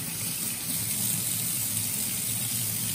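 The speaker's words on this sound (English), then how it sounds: "scrub this potato because I'm not going to peel it" A potato is scrubbed under a steadily running kitchen tap, the close water flow hissing continuously without pause or talk.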